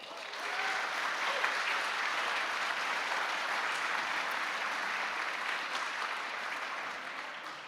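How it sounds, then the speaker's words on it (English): Applause at the Finnish Game Awards 2024: a large audience breaks into a steady wash of clapping that holds at an even level for several seconds, then tapers slightly at the end, with no talking over it. "let's give them a round of applause."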